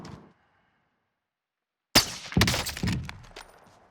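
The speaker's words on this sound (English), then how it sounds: "Armor break on that guy." A sharp armor-break crack from the video game Warzone hits suddenly after a short silence, followed by a rattling burst of gunfire and impact clangs that fade out.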